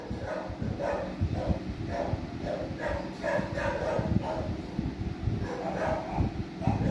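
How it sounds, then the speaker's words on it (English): Several neighboring dogs bark repeatedly outdoors, a rhythmic series of moderately distant barks over low background rumble. "Apology for my neighbor's dogs."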